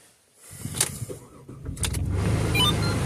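A pickup truck, just repaired for a misfire, runs smoothly while driving away from a grocery store, a steady low engine hum rising in the second half with a few light clicks and rattles early on.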